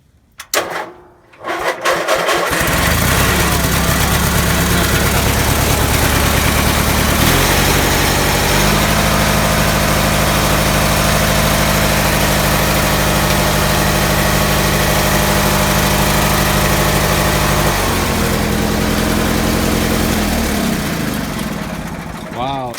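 A vintage Sears garden tractor engine cranks, catches and settles into a loud, steady close idle, with a brief shift in pitch partway through and near the end.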